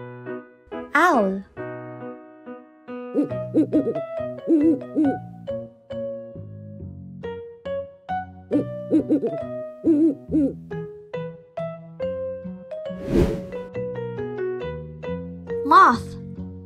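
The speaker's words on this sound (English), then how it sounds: "Owl." An owl hoots in soft, repeated low calls mixed with other animal sounds, set against music with tonal notes, and a voice speaks briefly between the sounds.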